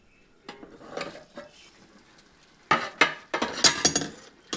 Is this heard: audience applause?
no